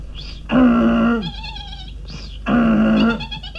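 A voice imitates a donkey's bray in two drawn-out, nasal honks separated by a pause, each loud and close.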